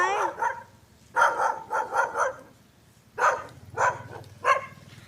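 A dog barks nearby in several short bursts, a quick cluster of yaps followed after a pause by a few more, fairly loud against a quiet background.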